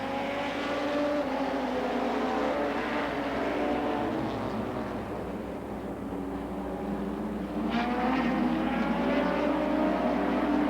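Stock cars race around the track at the CNE, a loud, layered engine roar with revving and passing swells and a surge of acceleration as the field comes by.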